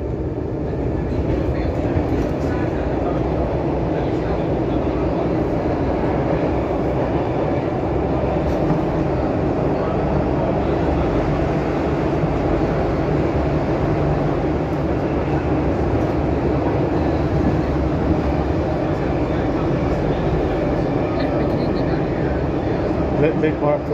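Stockholm metro C14 train running between Aspudden and Norsborg, heard from inside a carriage on its last day of service: a constant loud rumble of wheels and motors with rattling, and voices talking throughout.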